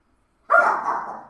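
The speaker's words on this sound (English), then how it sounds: "These dogs will fucking bark at me for no reason." A single sharp dog bark breaks out of silence, close and fairly loud, trailing off into a short yelping tail inside a house.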